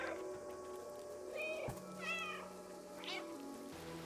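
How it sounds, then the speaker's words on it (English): A cat meows three times in the video game Stray, short rising-and-falling calls heard close and clear over a quiet background of soft ambient game sound. "Press B to meow."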